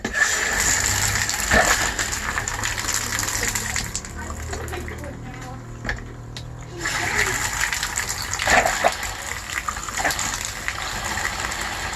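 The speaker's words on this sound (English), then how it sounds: "run both valves in the tub until it runs pink" Water gushes steadily from both hot and cold valves of the bathtub in a Keystone Passport 2810BH travel trailer during winterizing, a continuous broadband rush that dips briefly midway, then resumes loud and close with occasional faint clunks.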